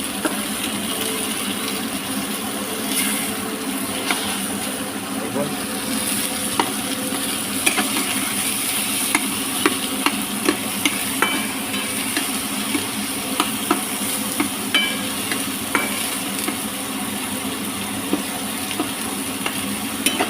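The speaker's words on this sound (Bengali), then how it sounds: "দেখুন একটু ভাজা ভাজা হোক" Whole spices, garlic and ginger fry in a pan for butter chicken, giving a continuous close sizzle and hiss with scattered sharp crackles and occasional stirring scrapes.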